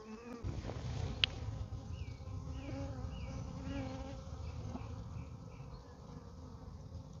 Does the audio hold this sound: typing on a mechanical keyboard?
no